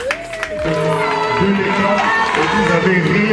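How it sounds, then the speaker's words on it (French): An audience at a school cultural day at Lycée Sainte Germaine breaks into loud sustained clapping and cheering, a dense crowd noise that rises after a short moment and carries on with voices mixed in. "Je crois que ça mérite quand même applaudissements."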